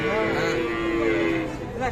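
A calf at a cattle market gives one long, loud, close moo that fills the moment, with faint market noise beneath it.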